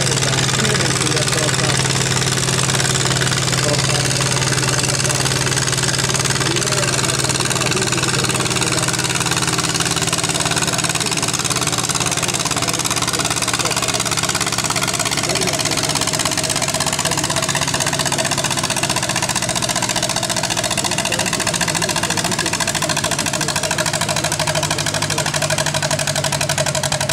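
A Zetor 25 tractor engine labors steadily under load during a veteran tractor pulling contest in Tyrnävä, a continuous loud mid-pitched drone with a slight knock, while an announcer talks over it throughout.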